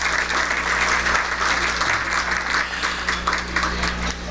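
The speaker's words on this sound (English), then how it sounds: "go ahead. You can clap all you want to." Steady applause from an audience at an award program, a dense wash of many hands clapping together, loud and continuous throughout with no voices on top.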